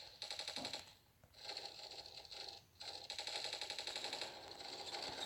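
Rapid gunfire from the mobile shooter Standoff 2, fired in long bursts with short pauses between them, loud and sustained with no voices over it.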